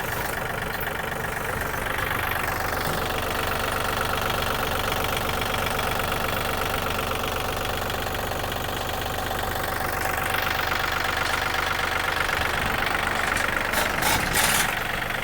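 A Yanmar diesel tractor engine idles steadily and smoothly for the whole stretch, a continuous low rumble with a faint knocking texture and no voices.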